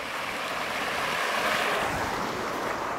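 A river waterfall gives a steady, broad rushing roar, close and unbroken, with some wind buffeting the microphone.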